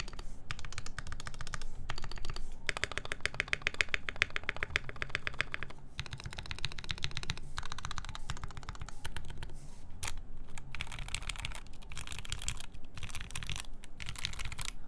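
Typing on a mechanical keyboard fitted with Tealios switches on a brass plate makes a continuous run of close, crisp key clacks with slightly high-pitched bottom-outs and brief pauses between bursts.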